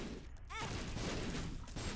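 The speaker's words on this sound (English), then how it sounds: "Look at all the explosions." Rapid bursts of explosions from the video game The Binding of Isaac Repentance, heavily modded, form a dense, loud, continuous barrage that runs through the whole stretch with no speech.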